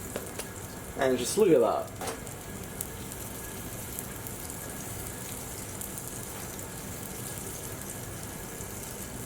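Naan bread fries in about two tablespoons of oil in a pan after being flipped, giving a steady, even sizzle throughout; a voice briefly speaks over it near the start.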